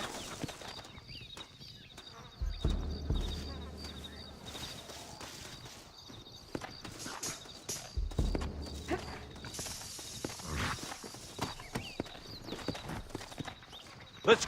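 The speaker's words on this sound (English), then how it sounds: "Looks like Carlos left us some horses." Horse hooves clip-clop in the Western video game Red Dead Redemption, rhythmic hoofbeats over faint ambient noise with scattered clicks and bursts, low thuds swelling twice as the horses move off.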